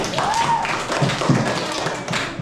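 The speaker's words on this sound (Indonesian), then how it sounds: "Tepuk tangan untuk Aisyah" Classmates clap for a student in a classroom, a short burst of scattered hand claps and taps over roughly two seconds, with voices mixed in.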